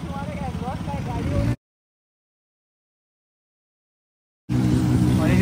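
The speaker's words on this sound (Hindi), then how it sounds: "तो गाइस ट्रैफिक देख लो" Road traffic rolls past on a busy street, a steady wash of vehicle noise under close conversation, broken by a few seconds of complete silence before the traffic and voices return.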